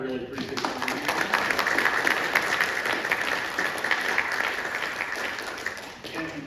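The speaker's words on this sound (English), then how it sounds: "Let's get a round of applause for Daniel." Sustained applause fills a hall at a school advanced-programs information night, a broad, even wash of many hands clapping for several seconds before tapering off near the end.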